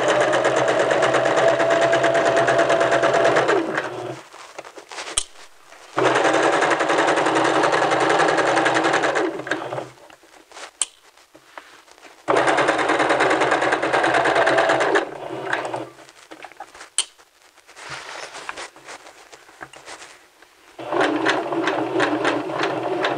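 A sewing machine stitches a seam on a men's vest in several bursts of rapid, even whirring, separated by quiet pauses where the fabric is turned.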